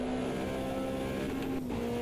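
Mitsubishi Lancer rally car engine held at full revs with a steady high drone and constant pitch while the clutch is slipped in and out, heard close and loud.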